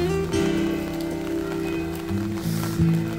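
Rain patters on a van driving in Spain toward Cáceres, under a low tonal engine drone with a few thumps and shifts in pitch. The sound is fairly loud and close, with no talking.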